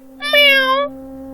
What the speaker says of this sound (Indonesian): Sampai tiba-tiba kami dikagetkan oleh suara kucing